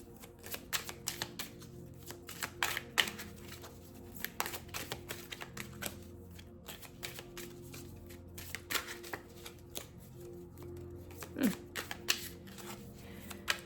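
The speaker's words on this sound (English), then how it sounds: "Let's just pull some cards from the Love Truth Oracle." Love Truth Oracle cards are shuffled by hand at close range, a steady stream of quick papery riffles and flicks with no talk.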